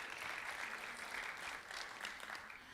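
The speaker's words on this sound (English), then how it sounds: "Let's give her a round of applause." Audience applause during a dental marketing keynote: a dense, even wash of clapping from a room full of people, fairly faint and distant, holding steady for a few seconds.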